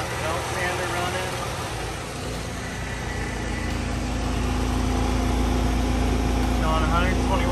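Harbor Freight Predator 3500 generator running a bandsaw and belt sander, a continuous engine hum with a steady mechanical whine from the tools, while a person talks over it.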